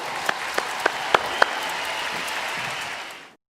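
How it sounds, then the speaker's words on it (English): An audience applauds at a Forevermark Forum event, a dense, even patter of many hands clapping with a few sharper individual claps, before it cuts off abruptly. "Let's give a big round of applause to all that we've achieved together."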